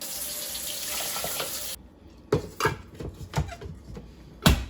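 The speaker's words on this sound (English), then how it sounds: "add some water" Water pours steadily into a cooking skillet, then stops and is followed by a few sharp clattering knocks and clinks of the pan being handled, close and fairly loud with no talk.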